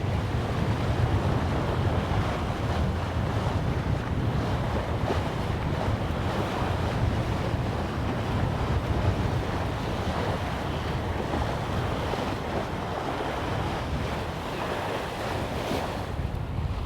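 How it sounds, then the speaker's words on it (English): Wind and breaking waves rush steadily around a single-handed sailboat off the coast of Scotland, a loud, continuous broadband roar with wind buffeting the microphone and no voices. "So the wind has picked up again, doing about 11-12 knots of breeze"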